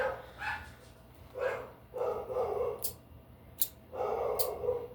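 A puppy indoors lets out a series of short, yappy barks and yips, about five or six bursts in quick succession at moderate loudness, with nobody talking over it.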